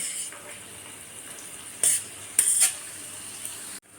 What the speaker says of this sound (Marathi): कांदा आपल्याला चांगला परतून घ्यायचा आहे ब्राऊन होईपर्यंत